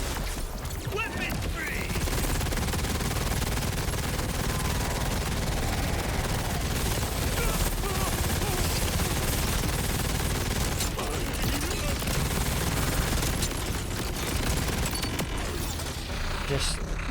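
Dense, sustained rapid gunfire from a Borderlands 4 video game, a continuous roaring barrage of bullets filling the whole stretch, with a voice speaking briefly over the shooting.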